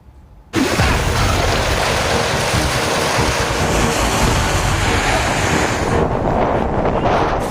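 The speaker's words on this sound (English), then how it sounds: "Strong winds, torrential rains and high tides have already wreaked havoc at multiple" Storm surf and strong wind from Cyclone Tauktae on the Indian coast: loud roaring waves and heavy wind buffeting the microphone, starting abruptly and continuing without pause.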